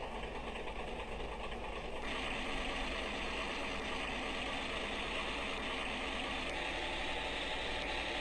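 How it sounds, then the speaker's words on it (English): MAN B&W marine diesel engine running at full ahead, about 70 RPM, heard as a loud, dense, continuous mechanical roar with a steady low throb and faint ticking, brightening slightly after the first couple of seconds. "The engine has reached full RPM, 70 over here."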